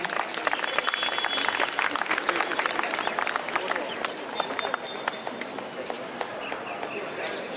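A festival audience bursts into dense, sustained applause for the festival director at a literary fest, loud and continuous throughout with many overlapping claps and faint voices underneath.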